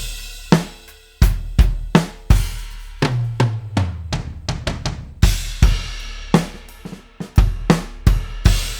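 Alesis Strata Prime electronic drum kit on its New York Maple factory preset, played as a steady groove of punchy kick and snare hits with cymbal crashes and a tom fill, sharp attacks ringing out between strokes.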